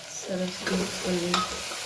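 Red chili powder and salt stirred into a frying pan with a spoon: a soft rhythmic scraping under a gentle sizzle, close and quiet.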